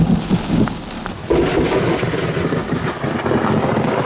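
Rumbling thunder from a cloud-to-ground lightning barrage during a rain-wrapped storm outbreak, loud and continuous with a sharp crack partway through and a rain-like wash underneath.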